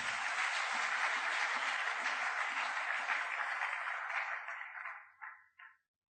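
Church congregation applauding, a dense steady wash of clapping from many hands that carries on for several seconds, then thins out and fades to a few last scattered claps.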